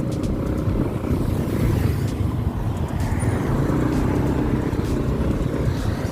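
A motorcycle engine drones loud and close on a rural road in Ponorogo, with a steady roar of engine and road noise that continues throughout without a clear approach or fade.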